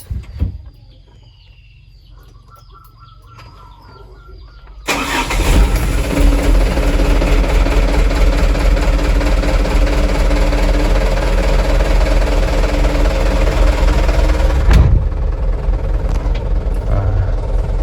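A Mitsubishi Canter truck engine cranks and starts after a quiet stretch with faint birds, then settles into a loud, steady diesel idle that runs on close by.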